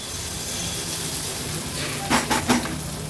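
Chopped onion frying in hot oil in a covered pan over low-to-medium flame, a steady soft sizzle with a few brief clinks of a utensil near the end.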